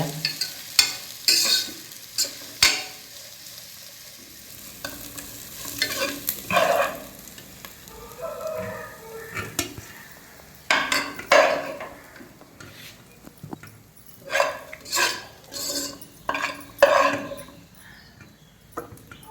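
Egg biryani stirred in a pot with a wooden spatula, a series of irregular scraping and turning strokes over a faint background sizzle, close and moderately loud with quiet pauses between.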